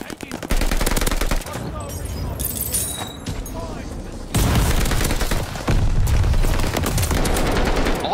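Rapid, loud bursts of automatic shotgun fire in a video game, booming almost without a break over continuous game noise, with a voice talking underneath.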